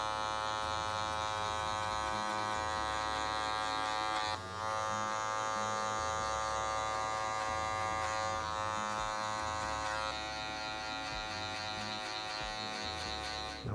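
Electric hair clippers buzzing steadily while blending a fade haircut, close and constant with brief dips in tone as the blade moves through hair.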